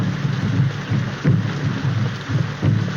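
Heavy, steady rain pours down while low thunder rumbles in repeated rolling surges, loud and close throughout with no voices.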